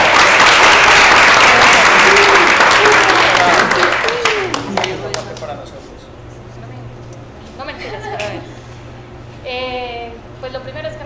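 Loud, full applause and cheering from an audience, given to Ana, fading after about four seconds into a quieter room where people talk and a low steady hum runs underneath.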